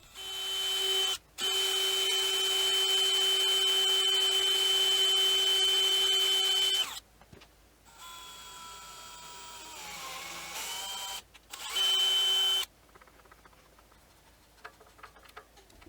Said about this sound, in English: the head can't be above the surface, so I'm making a counter bore first.